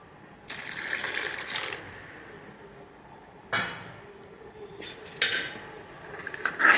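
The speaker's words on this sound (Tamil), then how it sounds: "இப்போ கொஞ்சமாக தண்ணி ஊற்றிக்கலாம்" Water runs from a tap in short bursts, splashing into a metal pot of simmering salted chili tamarind curry with manathakkali (black nightshade) berries, with clinks of cookware between pours.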